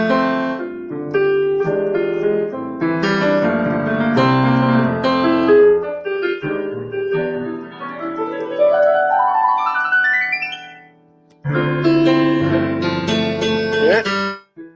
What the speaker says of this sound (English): So that's the sound of the German piano, German Grand.